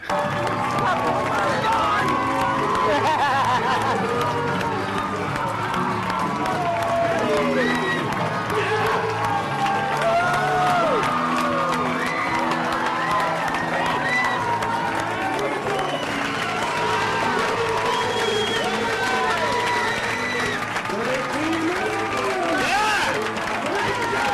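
A dense, continuous roar of a large crowd cheering and clapping, loud and sustained throughout with no pauses.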